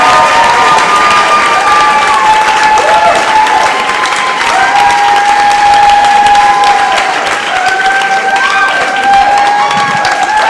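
A comedy club audience at Gotham Comedy Club in New York applauds loudly, with cheering and whooping voices riding over dense clapping that stays strong throughout.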